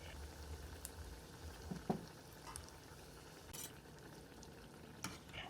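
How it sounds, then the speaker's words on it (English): A vegan lentil burger patty fries in oil in a small pot on medium heat, giving a faint, steady sizzle and bubbling with a few soft scrapes and taps. "Heat the oil on medium and fry."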